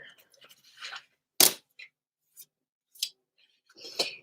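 Scissors snipping during a typewriter-cover sewing project: a few sharp, separate cuts spread across a few seconds, close to the mic, with quiet rustling between them and no talking.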